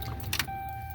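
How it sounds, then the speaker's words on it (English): Ignition key turned in a 2012 Dodge Ram 1500 pickup with a starting fault: a short metallic click and key rattle, followed by a steady electronic chime tone inside the quiet cab, close and clear. "So you turn the key, right?"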